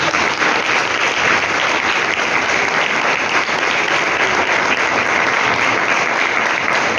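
A church congregation applauding during a Hindi-language sermon, dense continuous clapping that stays loud and steady throughout without any talking over it.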